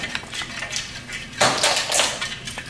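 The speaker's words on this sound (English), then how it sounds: "if you will start the whisking, because this oil and vinegar needs to be mixed all together" A metal whisk beating oil and vinegar together in a bowl for a slaw dressing, with quick light clinks and scrapes that swell into a louder, busier flurry partway through. Close and alone.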